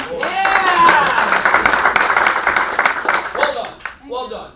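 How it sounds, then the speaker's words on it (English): An audience claps and cheers for a woman named Lori, a short burst of dense applause that swells then fades, with voices shouting over it. "Round of applause for Lori."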